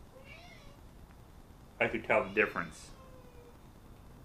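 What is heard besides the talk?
cat meowing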